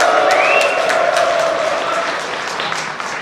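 A crowd at a county residents' cultural festival cheers and applauds for a county head's congratulatory address, dense clapping with rising whoops and shouts early on, tapering slightly toward the end.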